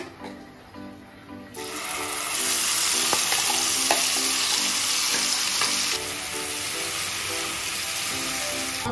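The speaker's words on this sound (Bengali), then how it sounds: "মশলাটাকে আমি কিছুক্ষণ কষিয়ে নিলাম।" Masala spice paste fries in a pan for a Bengali-style chicken curry: a loud, steady sizzle bursts in after about a second and a half, with occasional stirring scrapes, all under background music.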